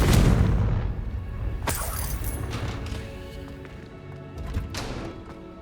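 A Confringo blasting spell goes off in Hogwarts Legacy, opening with a loud, booming rumble that fades out. A sharp crack and a later smaller burst come through over scattered game sounds.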